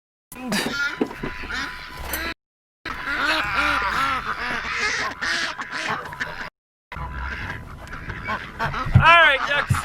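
Ducks quack over and over on a farm, close by and loud, in busy overlapping bursts, with a person's voice mixed in and wind buffeting the microphone.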